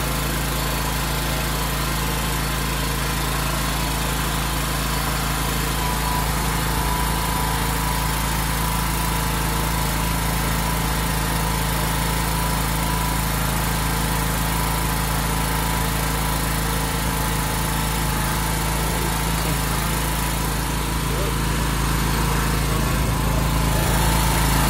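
A Huttenberg H8500W petrol generator runs steadily just after its first startup, a loud, constant engine drone with a deep hum, holding an even pitch throughout with no voices.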